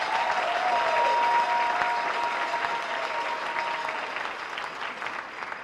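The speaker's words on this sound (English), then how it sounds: "let's have one more round of applause for Lakewood" Sustained applause from a large audience at an All-America City night of entertainment and celebration, a steady wash of many hands clapping with faint cheering, tapering slightly toward the end.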